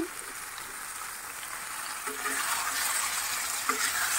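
Shrimp curry with hagra powder and potato pieces being stirred in a frying pan, a soft continuous sizzle with scraping stirs that grows slightly louder midway, close and without talk.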